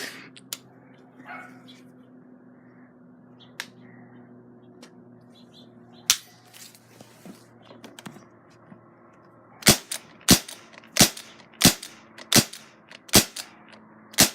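Pistol shots fired outdoors, a couple of isolated cracks followed by a quick string of about eight sharp, evenly spaced reports, loud and close against a low background hum.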